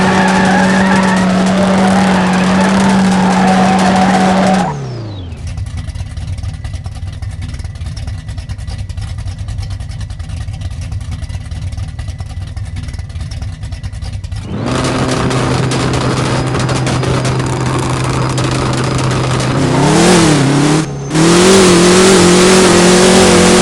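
A drag car in the No Limit Drag Racing 2.0 game launches and revs hard, with loud engine roar and tire squeal up front, a sudden drop to a quieter rumble midway, then a renewed rising rev near the end, no talk.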